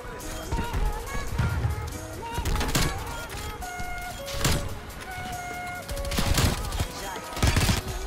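Bursts of sniper rifle gunfire in a video game ring out repeatedly amid game sound effects and background music, with sharp loud cracks at irregular intervals.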